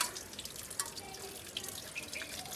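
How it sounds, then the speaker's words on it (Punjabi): Water runs from a kitchen tap in a Punjabi home as food is rinsed beneath it, a quiet patter with scattered drips and small splashes, with no voices. "ਟੂਟੀ ਥੱਲੀ ਕਰ ਗਿੱਲਾ ਜਿਹਾ ਕਰਨਾ ਹੈਗਾ"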